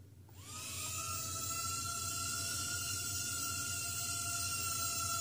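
Eachine E10W mini quadcopter drone spinning up and hovering, a steady high-pitched whine of small motors that builds in the first half second and then holds loud and constant with no talk.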